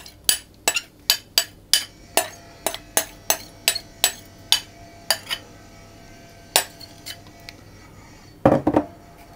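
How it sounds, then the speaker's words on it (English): Quick, evenly spaced clinks of a spoon against a mixing bowl as dried fruit and its excess liquid are stirred into Simnel loaf cake batter, followed by a brief clattering scrape near the end. "And then I'm going to pour in all my fruits, including any excess liquid."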